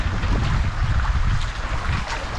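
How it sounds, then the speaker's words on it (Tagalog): Strong floodwater current rushing through a flooded street, a steady, loud, broadband wash of churning water with low rumble throughout, no voices. "Lakas na ng agos ng tubig."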